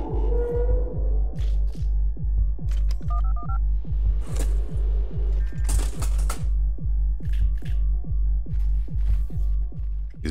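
A cell phone item in the video game Buckshot Roulette gives off a steady run of evenly spaced electronic clicks and pulses over a low hum, with brief tonal beeps and bursts partway through and no speech.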